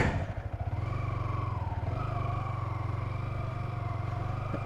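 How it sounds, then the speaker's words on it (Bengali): A Yamaha R15 V4 sport motorcycle being ridden, its engine giving a steady, close, throbbing drone at an even pace, with a slight change in pitch partway through and no talk. "চলেন বাইকটা একটু রাইড করা যাক"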